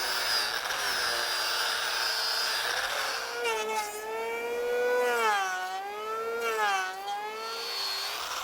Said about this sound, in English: this white cedar, when it's dry, it's so soft that it sands very fast